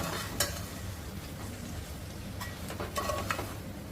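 Prawn gravy with the shells left on is stirred in a pan, a steady sizzle and bubbling running throughout with a few sharper scrapes and clinks of the spoon against the metal.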